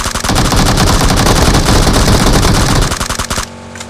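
Rapid automatic gunfire in a sniping video game, loud dense bursts of shots for about three seconds that then cut off abruptly.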